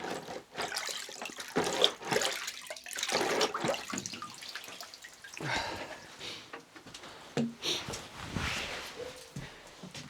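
Plain water splashes and runs over parts being rinsed clean without chemicals, an irregular close gushing and spattering of water that comes and goes.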